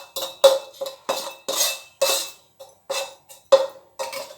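A spoon mixes crushed peanuts and cumin powder in a bowl, making a string of about a dozen crisp clinks and scrapes in an uneven rhythm, close and clear with nothing else behind them.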